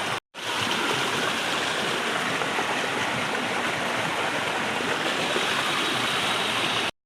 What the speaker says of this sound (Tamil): இதில் ஆற்றோட தண்ணி, அதுக்கப்புறம் வந்து கழிவு தண்ணி எல்லாமே கலந்து தான் விடுறாங்க. எவ்வளோ போகுதுன்னு பாருங்கள்.